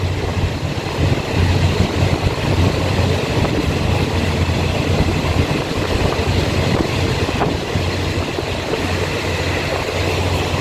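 Blue-liveried commuter passenger train hauled by a single R102 diesel-electric locomotive with six coaches, running inside the Central Tunnel on the South-Link line in Taiwan; a loud, steady rumble and clatter of wheels and engine reverberates throughout, with no talking.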